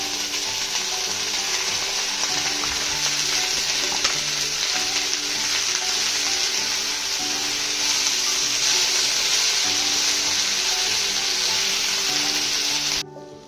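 Chopped tomatoes and onions frying in a pan for coriander chutney give a steady, loud sizzle with faint stirring scrapes throughout, cutting off abruptly at the end.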